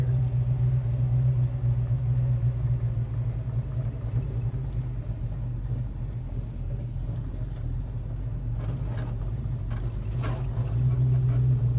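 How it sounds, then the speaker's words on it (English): A 1936 Plymouth Coupe hot rod with hand controls drives along, its engine a steady low rumble throughout with a faint rise in pitch near the end and no voices over it. "It's got a beautiful sound to the engine though, Jim."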